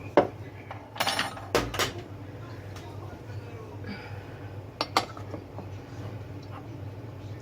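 Garlic mashed potatoes being stirred in a pot, with scraping and clinking of a utensil against the metal in a few sharp bursts over a steady low background hum.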